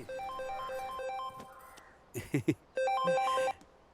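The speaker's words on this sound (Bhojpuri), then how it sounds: "अरे फोन बजाता देखी ना" A mobile phone ringtone plays indoors at home as a repeating melodic tune, breaks off briefly during a few soft knocks and thuds, then resumes.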